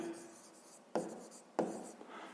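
A pen writes by hand on paper during a fifth-grade maths exercise, with two distinct quick strokes over a faint background and no voices.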